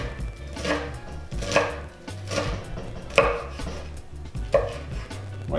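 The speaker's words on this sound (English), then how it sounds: "I'm just gonna come and just cut it up real nice" A knife chops tatsoi greens on a cutting board with about five firm, evenly spaced thuds and a short scrape between strokes, close and with no voices.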